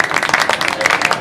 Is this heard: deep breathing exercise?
no